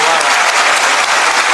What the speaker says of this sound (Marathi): राजेश भाऊ पावड्यांसाठी एकदा जोरदार टाळ्या होत्या.